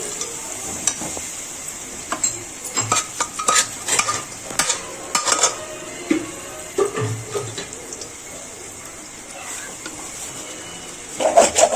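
Pigeon meat being stirred in a pan of spices and water: a spoon scrapes and clinks at a steady rhythm over a constant soft hiss, close and fairly loud.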